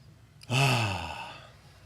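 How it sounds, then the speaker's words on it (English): A single deep breath during a guided centering exercise: a long, audible exhale that begins abruptly at moderate loudness and slowly fades into quiet. "Let's take a few centering breaths."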